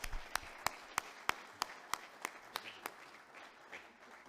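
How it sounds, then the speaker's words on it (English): Applause from an audience at a political party conference: a faint, even run of about a dozen sharp claps at a steady pace, heard at a distance in a quiet hall. "we'll give Leo a round of applause for his contribution"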